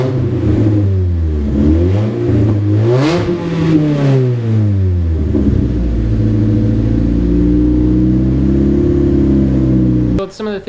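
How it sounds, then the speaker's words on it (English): A Chevrolet Cobalt SS with a new ZZP performance exhaust revs hard several times with a loud, throaty note, rising and falling in pitch, then settles into a steady rumble close by. "Let's give it a couple of quick revs. It's going to be loud."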